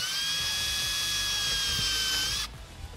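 A small power drill whines steadily as it bores a relief hole at the end of a crack in a plastic shed, loud and close for over two seconds before cutting off.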